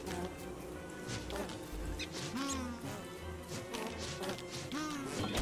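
Bees buzzing in Don't Starve Together, a steady insect drone mixed with busy game effects, swooping tones and background music, moderately loud and continuous throughout.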